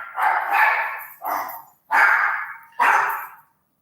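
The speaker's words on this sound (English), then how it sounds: "You can hear Doodle barking his stupid head off." A dog barks four times in short, sharp bursts with brief gaps between them, close and fairly loud, and the recording falls quiet after the last bark.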